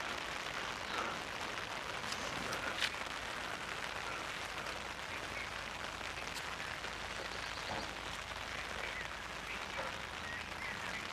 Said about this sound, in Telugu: వర్షం పడి తామరాకుల మీద చూడండి